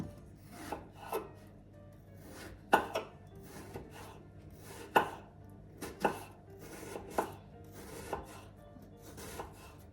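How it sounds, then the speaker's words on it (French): Apples being cut with a knife, a series of distinct close chops and slicing strokes, irregularly spaced and fairly quiet, against a board. "je coupe les pommes"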